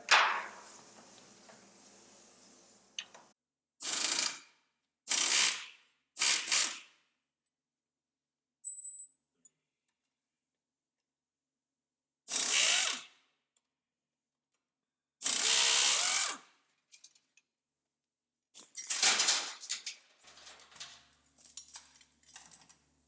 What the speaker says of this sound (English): We'll go ahead and remove the bolts now from that guide.